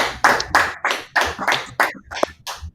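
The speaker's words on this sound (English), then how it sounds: "Clap it up" A class group at the end of a session claps in a series of about eight loud, close, rhythmic bursts that thin out toward the end.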